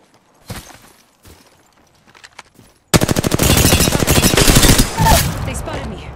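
Automatic gunfire in Apex Legends, a long loud rapid burst that starts abruptly after a few quiet taps and footsteps and keeps rattling to the end.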